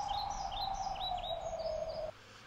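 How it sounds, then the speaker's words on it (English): Forest birds chirp in a repeated series of short rising calls over a steady high tone, fairly near and clear, then the tone cuts off abruptly near the end. "I have the forest, hence you hear the birds."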